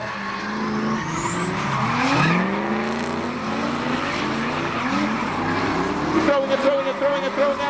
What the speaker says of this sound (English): Next up, Luke in the Big Mac Caddy V8.